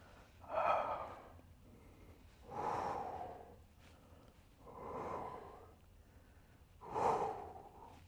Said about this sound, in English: Keep pressing, strong exhales.